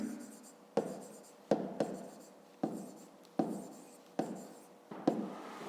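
Handwriting with a pen on paper during a fifth-grade maths exercise, a series of short scratching strokes in a regular rhythm, close and soft, with a voice speaking at times.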